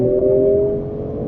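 A BMW M340i xDrive with a 382-horsepower engine drops a few gears, giving a loud, steady low engine drone with a strong tonal hum that eases slightly toward the end.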